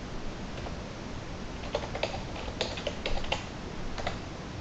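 Quick bursts of keyboard typing, key clicks clustered in short runs over a steady background hiss, fairly close.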